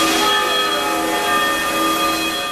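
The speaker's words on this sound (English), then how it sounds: "The bells tolled tonight in Oxford, Michigan" Church bells tolling in Oxford, Michigan, a small community north of Detroit, heard as a steady ringing hum with sustained overtones, fairly loud and continuous with no voices.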